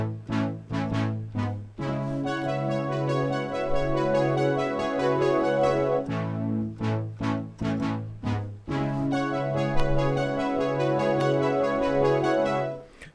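Solo piano plays an intro riff at a slow tempo, with sustained chords and a repeating melodic figure in clear, close phrases that pause briefly between passages.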